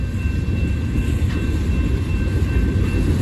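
A freight train passes close by with a loud, steady rumble and rolling roar of heavy railcars, continuous throughout with no letup.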